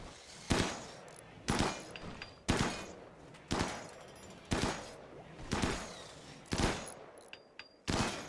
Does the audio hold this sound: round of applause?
no